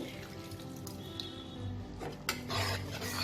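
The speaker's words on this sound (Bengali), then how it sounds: "পাতিলেবুর রসটা দিয়ে একটু নেড়ে দেব।" A spoon stirring tomato and date chutney in a pot after lemon juice is added, faint scraping and clinking against the metal, growing slightly louder near the end.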